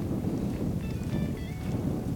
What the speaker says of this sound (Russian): Ветер, друзья, страшный, не знаю, как меня будет слышно.